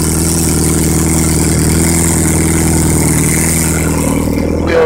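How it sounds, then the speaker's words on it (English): A loud, rough Toyota Celica engine swapped with a 3S-GTE idles steadily with no exhaust fitted, its low rumble and raw exhaust clatter constant throughout. "it's so loud right now because, like I said, I don't have exhaust on it."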